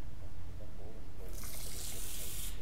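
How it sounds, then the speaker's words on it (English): Water is poured in the video game Stasis, a short splashing pour that swells midway over a low ambient hum. "he just pours a little bit of water"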